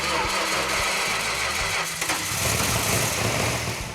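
A 1971 Dodge Challenger R/T's Mopar 383 V8 cranks and catches, settling into a loud, rough, close-up rumble with uneven throbbing pulses.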